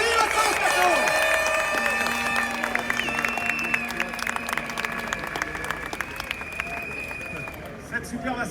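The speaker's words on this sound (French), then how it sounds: "Merci, on applaudit maintenant." Applause from a crowd at a police demonstration in front of the Assemblée Nationale, a sustained patter of many hands mixed with crowd babble and some talking, gradually thinning toward the end.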